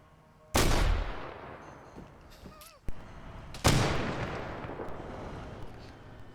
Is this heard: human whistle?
no